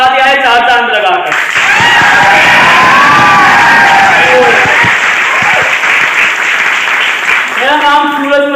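A crowd at a motivational talk event bursts into loud applause with cheers and whoops, swelling through the middle; a voice is heard briefly before and after the clapping.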